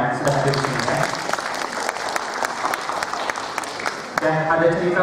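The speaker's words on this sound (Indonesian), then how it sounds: "Mungkin aplaus buat kita semua yang sudah hadir di sini" An audience at a school Parents Day gathering claps in a dense, sustained round of applause, with a speaker's amplified voice carrying over the clapping at the start and again near the end.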